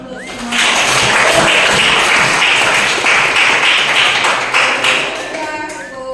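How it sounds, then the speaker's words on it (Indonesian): Students in a classroom applaud after their presentations, a loud, dense burst of clapping that swells quickly, holds for about four seconds, then thins out as voices come back in. "kita berikan tepuk tangan dulu"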